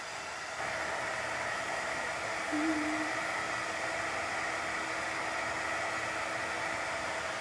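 A handheld hair dryer blows steadily on chalk paint on a tiered tray, a continuous close airy whoosh that begins abruptly and holds at an even level.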